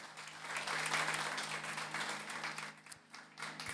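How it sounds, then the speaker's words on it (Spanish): A church congregation applauds during a Spanish-language worship service, a steady wash of many hands clapping at close range that swells, dips briefly, then continues. "¿Qué tal si le das un aplauso al Señor?"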